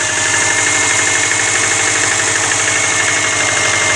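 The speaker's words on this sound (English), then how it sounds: "And again, this is a piston slap tap." A cool Subaru engine idles with piston slap, a rapid steady tapping knock over a continuous loud mechanical hum, heard up close with no talking.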